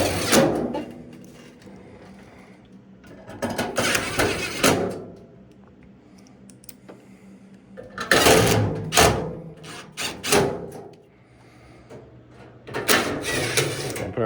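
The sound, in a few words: putting screws back into LG dryer top panel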